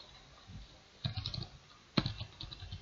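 A few soft keystrokes on a computer keyboard while entering a Linux command, two short clusters of clicks close by over a quiet hiss, no voices.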